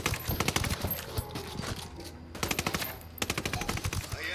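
Video game gunfire from Ghost Recon Wildlands crackles in quick automatic bursts, several rattling volleys broken by short pauses, fairly close and sharp, with little talking.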